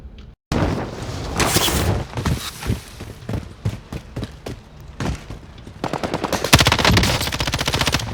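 An M13 assault rifle in Call of Duty Warzone fires loud, close bursts of rapid automatic gunfire, with short pauses between bursts and a long sustained spray near the end.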